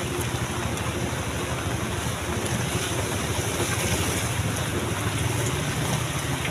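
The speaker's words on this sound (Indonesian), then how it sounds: "Awet hujannya dari malam" Rain falls steadily as a dense, even hiss and patter, close and continuous, with no break and no voices.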